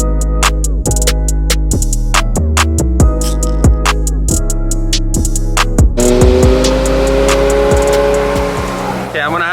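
A Ferrari 458 sports car drives past with a loud, close engine whose pitch climbs and drops through repeated sharp gear changes, ending in a rougher, fuller roar with hints of tire squeal.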